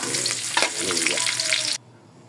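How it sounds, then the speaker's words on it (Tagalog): Ginger sautéing in a hot pan for pork rib tinola, a loud close sizzle with stirring scrapes throughout that cuts off sharply near the end. "Yung gisang-gisa yung luya natin."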